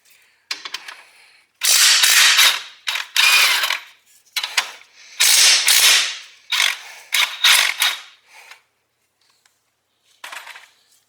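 An impact wrench loosening 22 mm bolts on the brakes of a Nissan Maxima during a pad and rotor replacement: loud, rattling bursts of rapid hammering, several in a row with short pauses, then a fainter burst at the end.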